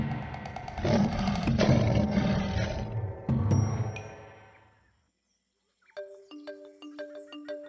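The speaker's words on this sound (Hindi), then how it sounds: "ये है बाघ," A tiger gives a deep, loud roar lasting a few seconds, followed by a second roar that fades out, then brief chiming musical tones after a pause.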